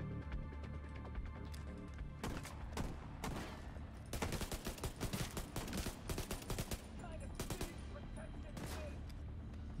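Repeated shotgun blasts and gunfire in a first-person shooter video game, loud sharp bursts spread irregularly through the scene amid other game effects, with a player talking over parts of it.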